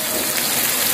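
Dried onions hit a hot cooking pan that already holds tomato, setting off a brief, even sizzling hiss that sounds like steady rain on a surface.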